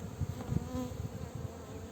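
Honeybee drones and workers buzzing around an open hive during a spring inspection, a close, continuous, droning hum that swells and fades as bees pass near, with no talk.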